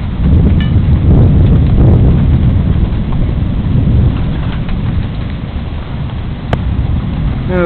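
Thunderstorm with dark clouds and wind: a dense, steady roar of heavy rain, with low rumbling thunder rolling underneath throughout and a brief sharp tone near the end.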